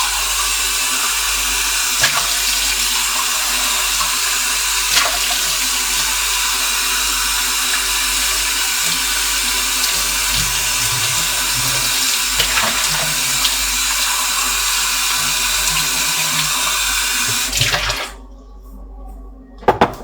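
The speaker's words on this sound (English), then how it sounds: "Be right back and I wash my cup." A cup washed under a running kitchen tap, a steady close hiss of flowing water with faint clinks, continuing for most of the stretch before the tap shuts off near the end.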